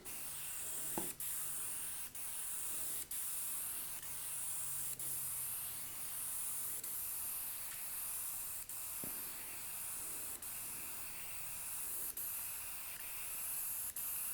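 Sealer is sprayed from a can onto a CNC-carved photo in steady hissing passes, with faint regular clicks between bursts, fairly quiet and close.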